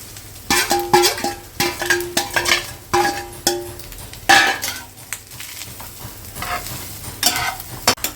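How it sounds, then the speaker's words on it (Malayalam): Steady sizzling of grated coconut roasting in ghee in a pan, with repeated stirring scrapes and occasional clinks of a utensil against metal. "തേങ്ങ വറുത്തെടുക്കണം. ഗോൾഡ് കളറാക്കണം."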